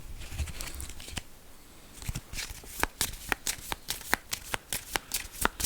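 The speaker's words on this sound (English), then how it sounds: "let's shuffle these cards back up" A deck of cards is shuffled for a tabletop wargame set at the Anzac landing at Gallipoli: a soft riffle first, then a quick run of about a dozen sharp, evenly spaced card snaps, close and clear.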